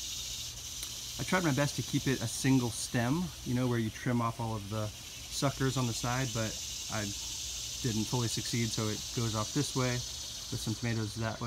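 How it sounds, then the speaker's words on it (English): Summer cicadas give a steady, high, shrill buzzing drone in a tomato garden, continuous in the background beneath someone talking at close range. "You can hear those summer cicadas chirping."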